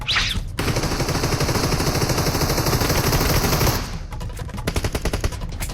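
Rapid bursts of PUBG Mobile gunfire rattle loudly and continuously for several seconds, then break into sparser, choppier shots near the end.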